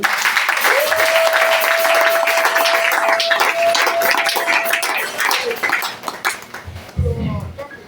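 A church congregation breaks into loud, sustained applause and cheering for the Lord, dense clapping filling several seconds with a held voice or tone over it before the clapping thins out and fades.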